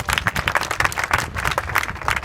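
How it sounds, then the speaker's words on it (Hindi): A room of children breaks into brisk, scattered clapping, a short burst of quick hand claps close by that continues steadily before tapering. "वेरी गुड, ताली बजाओ"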